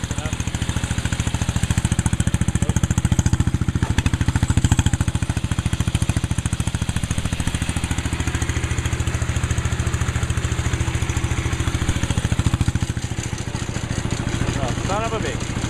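A 1973 MW Gilson garden tractor runs with its PTO engaged, driving a rototiller: a loud, steady, chugging small-engine drone with a fast pulse, heard close by under a voice.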